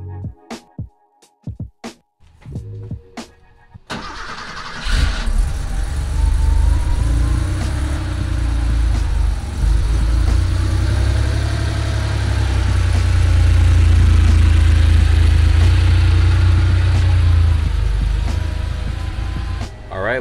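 A warmed-up Porsche 911 engine idles steadily and loudly close by, a low continuous rumble after a few brief knocks and clicks at the start.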